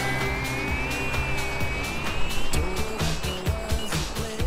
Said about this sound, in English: High speed pass for the Kingfisher.